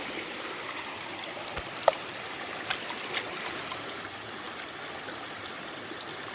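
A creek in full flood on a gold-prospecting site gives off a steady, broadband rush of flowing water with no talk, marked by a few faint clicks and knocks.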